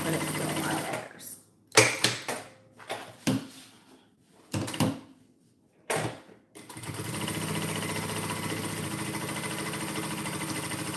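A sewing machine stitches through thick layers of fabric in several short, loud bursts with pauses between them, then settles into a steady, continuous whir.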